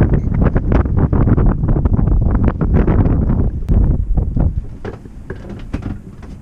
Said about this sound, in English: The wind's ripping.